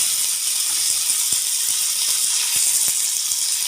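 Curry leaves dropped into hot oil in a pan while cooking a vegetable dish, a steady loud sizzling hiss with scattered sharp crackles and pops throughout, no voices.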